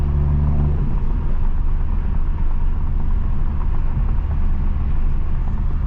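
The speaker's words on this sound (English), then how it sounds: "I don't like the way the car sounds when it's in this mode" A 500HP Toyota Supra in track mode drones loud and close from inside the cabin, a continuous low engine rumble that holds steady throughout with no talking.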